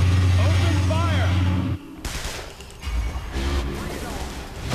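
Gunfire in the video game Metroid Other M erupts as sharp noisy bursts after a stretch of in-game dialogue, loud and close, with further clattering blasts and game sounds behind.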